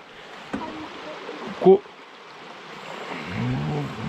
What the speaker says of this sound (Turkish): Enes, burada su sesi çok mu?